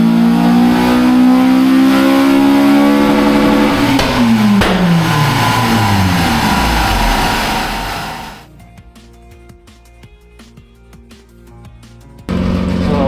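A Honda Civic FN2 Type R, naturally aspirated, revving hard on a dyno: a loud engine climbing steadily in pitch, then a shift down with a sweeping drop, before the noise cuts to a quieter idle and then rises again.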